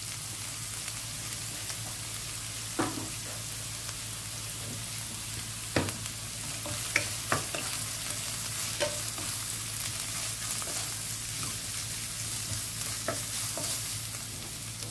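Carrots stir-fried in a wok for vegetarian glass noodles, a steady crackling sizzle with scattered clicks and scrapes of the spatula, close and continuous without talk.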